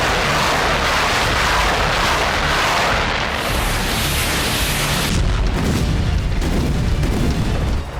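A Russian artillery shell explosion setting off a hidden ammunition depot in a forest rumbles as a loud, sustained booming roar, with a fresh deep blast surging midway before the din continues.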